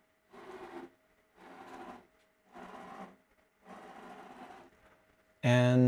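Servo motor from a JMC tuning setup driving a machine axis: four evenly spaced whirring bursts, each under a second long, separated by short pauses, then a sudden loud, harsh burst at the end.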